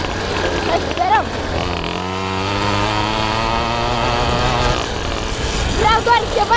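A 50cc pocketbike engine runs steadily nearby with a droning tone, while someone talks over parts of it.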